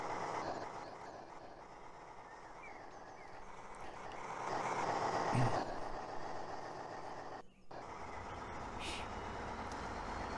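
A model railway locomotive rolls out of a shadow station, a continuous low rumbling of wheels on track that swells in the middle, heard under someone talking.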